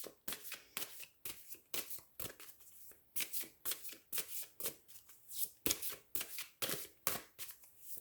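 Tarot card decks being shuffled, a rapid series of crisp riffling bursts repeating in quick rhythm, close and fairly quiet, with no voice.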